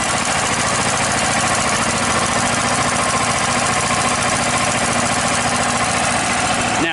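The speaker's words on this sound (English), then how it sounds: "Now it's idling real low because I have the idle control on" A DuroMax XP10000EH portable generator idles low and steady on idle control, a continuous droning hum with a faint rhythmic knock, close and fairly loud throughout, with no talking.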